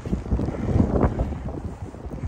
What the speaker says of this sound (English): Right now it's raining and windy.